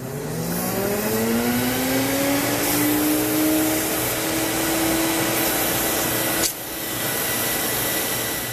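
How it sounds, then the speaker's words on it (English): A Sirena water-filter vacuum cleaner runs loudly and steadily nearby to dry its hose, its motor whine rising in pitch as it spins up, then holding a continuous roar with one brief dip near the end. "turn the machine on, and this will dry the hose for you."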